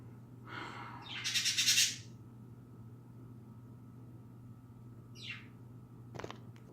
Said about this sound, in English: those birds are driving me crazy